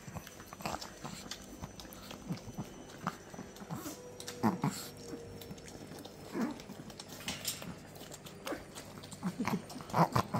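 Chihuahua and Cavalier King Charles puppies eat greedily close by, with steady wet chewing, lapping and crunching clicks, a low growl here and there, and brief soft talk in the background.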